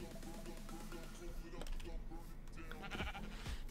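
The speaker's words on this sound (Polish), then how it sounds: "Chodź owco." Sheep bleating in Minecraft, a few short, quiet bleats under a person talking, with game sounds around them.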